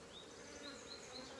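Honey bees buzz around an open hive colony, a faint, steady drone with a few higher whining passes as individual bees fly close.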